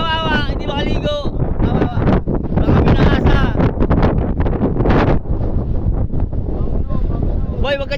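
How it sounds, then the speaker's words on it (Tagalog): Strong wind buffets the microphone in loud, continuous gusts in Saudi Arabia, with voices talking underneath throughout. "Kaya malakas yung hangin papunta rito eh."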